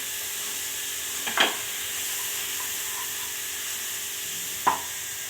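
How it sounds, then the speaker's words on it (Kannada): Egg gravy with chili powder and garam masala is stirred in a hot pan over a constant sizzle and hiss, with two brief spoon scrapes standing out. "ಖಾರದ ಪುಡಿ, ಗರಂ ಮಸಾಲ ಹಾಕಿ ಚೆನ್ನಾಗಿ ಕಲಿಸ್ಕೊಡ್ಬೇಕು"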